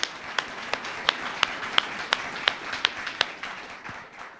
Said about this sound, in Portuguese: Então aplaude o Senhor se você está entendendo.